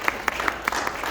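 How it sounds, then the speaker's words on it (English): A handful of people clap during a talk on agile and DevOps metrics, sparse and fairly faint, with a few distinct claps standing out briefly over a quiet room. "Round of applause for John."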